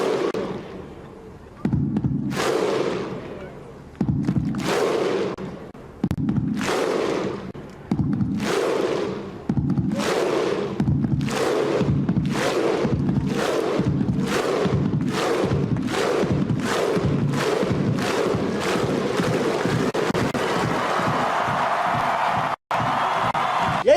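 Iceland football fans perform their thunderous chant: booming unison shouts paired with heavy drum thuds, spaced widely at first, then quickening into rapid repeated hits before breaking into a roaring cheer.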